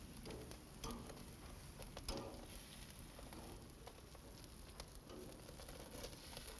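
Mushrooms grill over an open flame with a faint, steady sizzle and light crackling patter throughout, heard alone at low volume.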